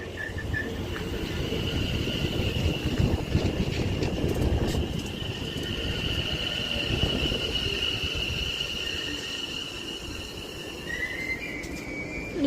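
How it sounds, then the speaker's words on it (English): A West Midlands Railway train rolls through Duddeston station with a continuous rumble of wheels and carriages, joined by high rail squeals and screeches that grow louder toward the end. "Now departing is going to be the 1729 West Midlands Railway service to Wolverhampton."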